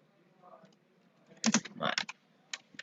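Quick bursts of typing on a computer keyboard come in two clusters of keystrokes, close and clear, with a voice speaking softly around them.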